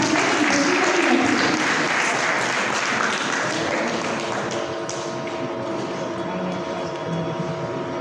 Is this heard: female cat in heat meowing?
no